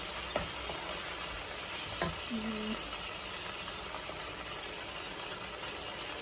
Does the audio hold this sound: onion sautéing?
yes